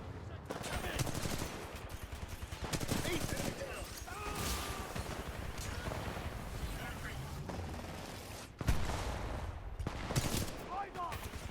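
Rapid gunfire and weapon bursts from the video game Titanfall 2 fill the whole stretch, dense and continuous with brief louder blasts, faint and mixed with game noise.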